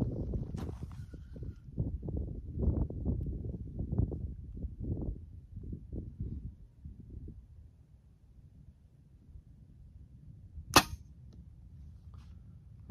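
A Sanlida Dragon X9 compound hunting bow loosing an arrow at 40 yards outdoors, a single sharp snap that stands out against rumbling wind noise.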